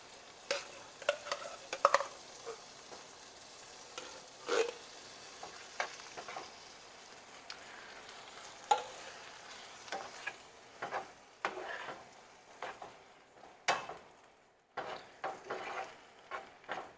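Drained beans are stirred into a pan of freshly sautéed ingredients, with irregular scraping and clacking strokes of a utensil over a faint sizzle, close by and with brief pauses.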